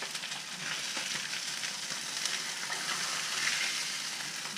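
Pecan-crusted speckled trout fries in a pan with a steady, bright crackling sizzle, close and even throughout with no talking.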